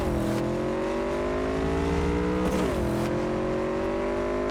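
A motorcycle engine in Cyberpunk 2077: Phantom Liberty drones steadily at a close, loud level, its pitch gliding slowly with a brief wobble midway, and no one speaks over it.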